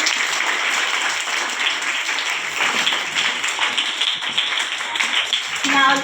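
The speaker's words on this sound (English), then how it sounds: "give a huge round of applause for him" Students at a school event give a round of applause, dense steady clapping that is fairly loud throughout, with a faint voice briefly rising near the end.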